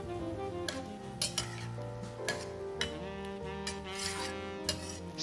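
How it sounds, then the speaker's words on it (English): Broccoli and tofu are stir-fried in a pan, with a metal utensil clinking and scraping against the pan in irregular strokes over a faint sizzle, close and moderately quiet. "Stir fry for about 30 seconds"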